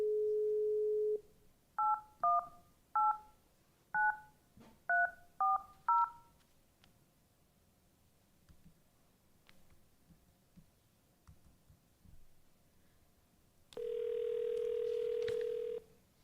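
Telephone keypad dialing as a caller joins a school board meeting by phone: a short tone, then about eight quick separate dial beeps in an uneven rhythm, a pause with faint clicks, and a long steady tone near the end.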